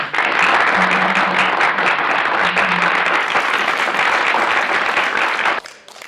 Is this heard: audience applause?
yes